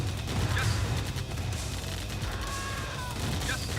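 Grenade explosions and battle noise in the Command & Conquer game, a dense continuous wash of blasts and crashes with faint unit chatter under it.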